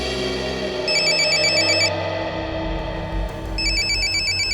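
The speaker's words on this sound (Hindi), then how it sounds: "किसका फोन है? पता नहीं सर, कोई अननोन नंबर है सर।" A phone ringtone from an unknown number chirps in bright, repeating electronic bursts, playing one phrase, pausing briefly, then starting again, moderately loud over a low background hum.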